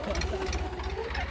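A tractor engine with no silencer runs loud and close, throbbing in a rapid, uneven chug, with a voice talking faintly over it.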